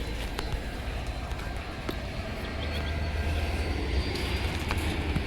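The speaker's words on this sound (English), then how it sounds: "Oh, the freight train's moving." A steady low rumble of a freight train rolling along, continuous and fairly loud, with faint metallic clanks and squeals over it.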